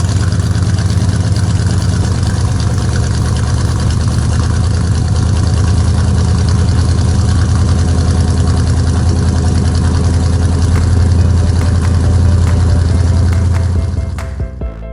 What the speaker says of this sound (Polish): To jest motor. Jedzie bardzo szybko i słychać go z daleka.